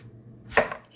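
A single sharp knife chop cuts through butternut squash and strikes a cutting board, close and crisp, with a faint follow-on tap and otherwise near silence.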